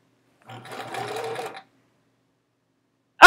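A sewing machine stitches quilt rows together for a short run of about a second, a quick mechanical whirring rattle that then stops into silence, with a sudden loud noise right at the end.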